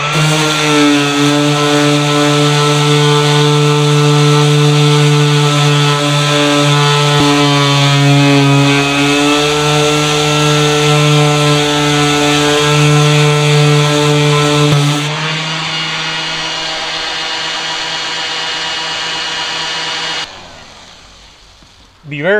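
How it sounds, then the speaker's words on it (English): Steady, loud motor whine of a power sander working body filler on the rear of a bus conversion, holding an even pitch for about fifteen seconds before dropping in level and cutting off. "Be very careful when you're sanding with the rough sandpaper that you don't take too much out."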